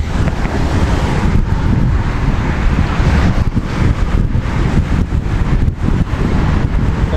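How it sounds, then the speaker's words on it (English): Loud, constant wind buffets the microphone while cycling into a headwind, a heavy roaring rumble with gusty surges and no voices. "It is windy. It is very windy."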